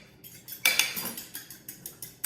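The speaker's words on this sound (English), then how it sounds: "I guess we could use the fork. You want to whisk that together like that?" An egg whisked with a fork in a bowl while making savory chaffles, a steady run of light metallic clinks and taps repeating about twice a second, close and clear, with no talking.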